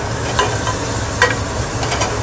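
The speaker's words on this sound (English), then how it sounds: "you got the ghee, you got the olive oil, you got a little bit of minced shallots, and you're kind of getting the aromatics going right now" Minced shallots sauté in ghee and olive oil with a steady, moderate sizzle, and a few soft stirring clicks from the pan rise over the continuous frying hiss.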